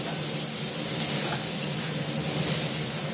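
Onions frying with ginger paste in a pan for kichuri, a dense, steady sizzle and hiss up close, even and unbroken with no voices.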